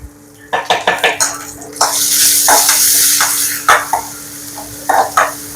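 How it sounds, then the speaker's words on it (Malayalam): Chopped shallots and curry leaves hit hot ghee in a pan for a pineapple moru curry, giving a broad hiss that swells and holds over a few seconds, with close metal clinks and stirring on either side. "അരിഞ്ഞു വെച്ച കുഞ്ഞുള്ളി വേപ്പിലയും കൂടി അങ്ങനെ ഇട്ട് കൊടുക്കാം കേട്ടോ ആഹാ നെയ്യുടെ ഒരു മണമുണ്ടല്ലോ"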